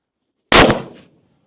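A single long range hunting rifle shot, a sharp loud blast with a quick decaying tail lasting about half a second, close, after silence and alone without talk.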